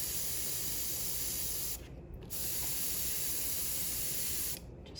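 A close, continuous airbrush hiss lays paint onto a Pink Horror wargaming miniature, broken by two short pauses in the spray.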